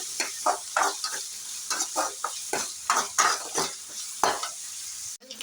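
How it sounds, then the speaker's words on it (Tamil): Mustard seeds, onion, garlic and curry leaves sautéing in hot oil for a brinjal poriyal, with steady sizzling and repeated stirring scrapes of a spoon against the pan, close and fairly loud, with no talking. "கடுகு வெங்காயம் பூண்டு கருவேப்பிலை எல்லாம் போட்டு வதக்கிக்கோங்க"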